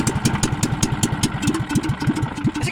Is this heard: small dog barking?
no